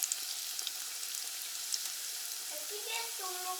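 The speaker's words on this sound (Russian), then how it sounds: "Так, пускай они жарятся." Dough pieces fry in a pan for homemade pastries, giving a steady close hiss and sizzle with faint crackles, and a few brief voice-like tones near the end.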